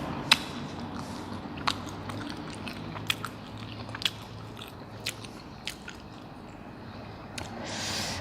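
Someone eating spicy Korean instant noodles with fried sausage, with close, soft wet chewing and slurping broken by sharp bites and clicks spread irregularly across the stretch.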